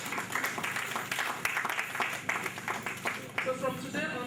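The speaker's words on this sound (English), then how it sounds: "Clap for yourselves." Audience at a Get Nigeria Reading event in Nigeria claps steadily in a dense, moderately loud burst of applause that tapers toward the end.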